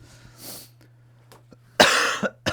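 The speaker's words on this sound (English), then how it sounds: "Frick, don't cough on the paper." A person coughs several times in harsh bursts, two quieter ones early, then a loud cluster of coughs near the end, close by during a cosplay paper-crafting session with a steady low hum underneath.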